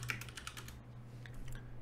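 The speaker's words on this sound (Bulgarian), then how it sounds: "Дайте да напишем тук." Typing on a Logitech G Pro computer keyboard, close and quiet, with a quick run of sharp key clicks, a pause, then a few more scattered keystrokes over a low hum.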